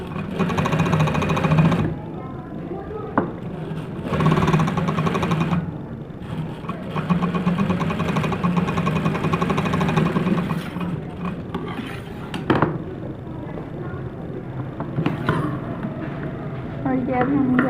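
A sewing machine stitches a frock in steady whirring bursts with pauses between runs, close by, while a person talks over the mechanical hum.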